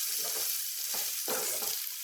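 Bitter gourd stir-frying and roasting in a pan for a Karnataka-style palya, a steady close sizzle with a few soft stirring scrapes, no voices.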